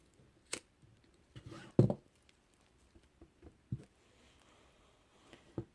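Scissors snip a cord off the end of a kandi cuff made of perler and pony beads, with a few sharp, quiet clicks and bead rattles around one louder cut, each one short and close, with long quiet gaps.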